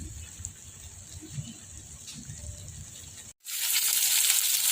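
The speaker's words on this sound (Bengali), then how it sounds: "এই যে পেঁয়াজের সরষের তেল দিলাম আর পেঁয়াজ আর লঙ্কা দিলাম, এটা লাল করে ভাজবো।" Onion and chilli frying in mustard oil give a steady close sizzle with light crackle, which cuts out briefly and then returns as a louder, brighter hiss.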